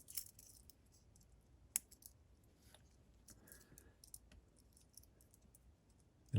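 Small plastic parts of a Dr. Wu DW-E04 Prime Commander transforming Optimus Prime toy are rotated and folded, giving faint, sparse clicks and light snaps over near silence, with a louder knock at the very end.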